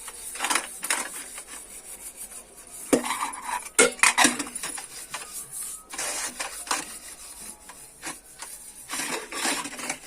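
Kitchen utensils and dishes are scrubbed and clattered during washing, irregular metallic clinks, knocks and rubbing scrapes close by, with no talking.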